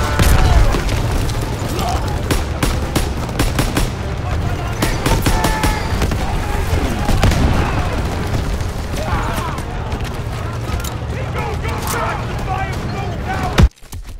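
Artillery explosions and gunfire in the World War II shooter Call of Duty: WWII, a loud continuous barrage of booms and cracks with dense combat noise, while someone talks over it.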